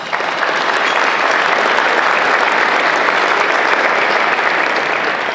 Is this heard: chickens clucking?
no